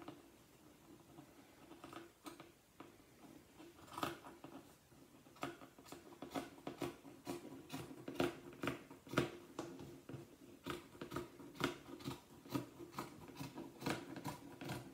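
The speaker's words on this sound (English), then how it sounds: "we're going to cut the hem off of the bottom" Scissors cutting the hem off the bottom of a T-shirt, a quiet close run of rhythmic snipping clicks that starts sparse and grows steady and faster, with no talk over it.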